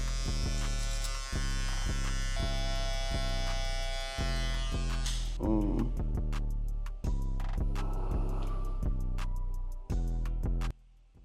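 Electric hair clippers buzz steadily and close up while tapering a beard fade, the motor hum broken by brief dips and clicks as the blade moves against the hair.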